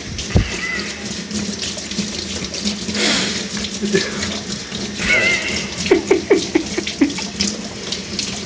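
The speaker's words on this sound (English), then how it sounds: "Scrub that blade." Running water splashes steadily while a blade is scrubbed under a tap, with brief clinks and scrapes of the metal joining in toward the end, fairly close and loud.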